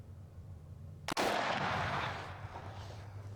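A single sharp rifle shot from an AR-15, SKS or AK-47 during sunset plinking, a loud close crack followed by a long echoing decay over quiet outdoor background.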